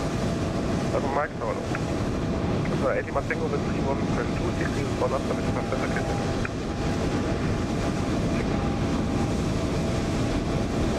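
Lufthansa Airbus A320 landing into Barcelona in Microsoft Flight Simulator 2020, a steady, loud jet-engine roar that fills the whole clip, with voices faintly beneath it.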